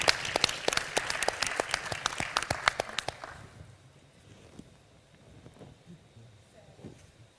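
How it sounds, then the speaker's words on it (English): Audience applause at a startup tech fundraising event, a burst of dense clapping for about three seconds that cuts off abruptly, leaving quiet room noise with faint movement. "Give her some applause, guys."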